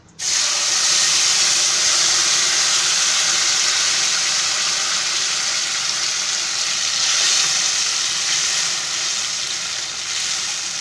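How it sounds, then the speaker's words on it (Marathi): Tomato paste hits a hot pan and sizzles loudly right from the start, a dense steady frying hiss that holds for about ten seconds without a break. It is close and strong, with no voices over it. "हे जे टोमॅटोची पेस्ट बनवली ना, ही पहिली टाकते"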